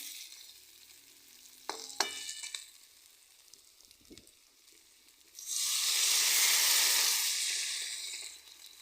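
Water goes into a pan of fried eggplant, bursting into a loud, close hiss and sizzle that swells for about three seconds and then fades, after a few earlier utensil clinks against the pan.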